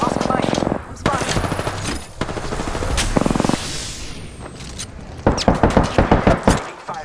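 Gunfire in Apex Legends: bursts of automatic weapon fire and sharp shots at close range, separated by brief pauses, ending in a loud rapid volley, with game voice lines spoken over parts of it.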